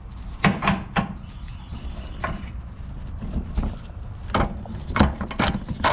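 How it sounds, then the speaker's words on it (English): Bolts being removed from the upper control arm of a third-generation Dodge Ram 2500 pickup, a series of sharp metallic ratchet clicks and clanks in irregular bursts, close by in a quiet workshop. "Now taking out the bolts of the control arm."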